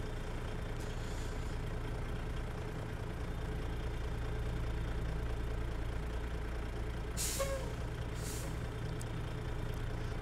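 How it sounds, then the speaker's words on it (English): A truck in a simulator game with the Zeemods sound mod and a Detroit Diesel 60 Series engine idles in a steady low rumble, then gives a sharp hiss of air brake release, followed by a second, shorter hiss. "that air brake sounds probably about the best thing that I've ever seen that adds immersion realism into these trucks"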